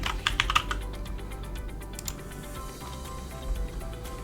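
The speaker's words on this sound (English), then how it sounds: "go ahead and type your name" Someone types a name on a computer keyboard in a short burst of quick, close, light key clicks that tapers off into sparse taps over quiet background hum.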